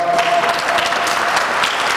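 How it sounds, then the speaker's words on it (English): A round of applause for student mentors at a school idea showcase, with a crowd clapping steadily and fairly close throughout the short stretch. "You all just please give them a round of applause"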